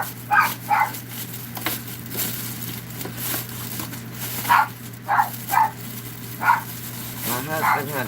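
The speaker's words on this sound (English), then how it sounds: "What you barking at, Bobby?" A dog barks in short bursts, singly and in quick pairs, fairly close, over a steady low hum with some quiet talk.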